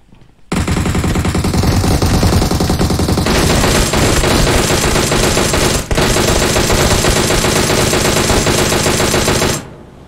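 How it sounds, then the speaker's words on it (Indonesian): Dense, continuous automatic gunfire from the video game PUBG Mobile roars loud and close for nearly ten seconds with one brief break, no voices over it. "Dia nembak dari mana dah?"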